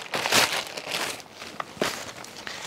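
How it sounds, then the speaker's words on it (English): Chunky plastic mail bag being torn open and crumpled by hand, with loud crinkling bursts early on, then quieter rustles and a few sharp crackles, close up and with no talking. "Another chunky plastic bag, which is good because these bags can be recycled"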